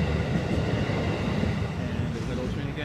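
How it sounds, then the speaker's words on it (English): A train rumbles by at steady volume, a continuous low roar with faint rail rattle and no clear approach or fade. "And there's that old train again, and there goes that other train."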